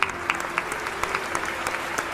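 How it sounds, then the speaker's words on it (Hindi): Applause from a seated audience at a motivational talk by Dr Kumar Vishwas, a steady crackle of many hands clapping throughout with scattered louder claps, no voices. "ये जितने लोग बैठे हैं इन सब ने ताली बजाई इस बात पर"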